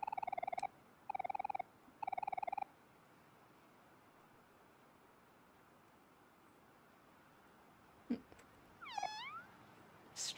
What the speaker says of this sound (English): stray cats.